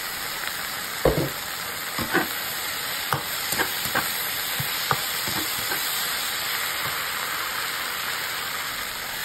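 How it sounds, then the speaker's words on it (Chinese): Potato slices stir-fried over high heat with soy sauce and seasoning, a steady loud frying hiss and sizzle throughout with scattered soft clacks of a spatula against the wok, close and without speech. "然后大火翻炒30秒，炒出香味儿"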